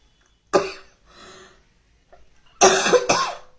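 A sharp cough, a softer breathy one, then a harsh double cough close by; no speech.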